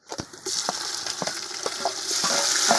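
Steady close sizzle of onions frying golden in a pan for chicken biryani, with a few stirring scrapes over the hiss.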